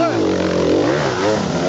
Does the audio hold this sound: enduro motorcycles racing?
yes